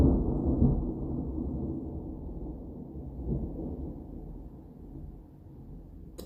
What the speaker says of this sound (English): that was a big thunderclap